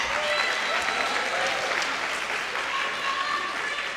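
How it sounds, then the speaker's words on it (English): Sustained audience applause following a performance at a scholarship and awards program, a dense, even roar of clapping from a crowd that carries on for several seconds at fairly close range. "Can we get another round of applause for that?"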